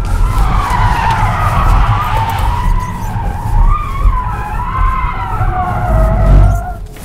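Tesla Model 3 in track mode skids at full steering lock, its tyres squealing loudly and continuously in a wavering high screech for about seven seconds over low road rumble.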